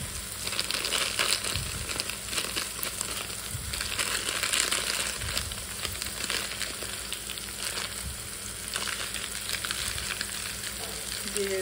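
Cumin paste frying in a pan sizzles and crackles loudly and continuously up close, with a spatula stirring and scraping through it and no one speaking.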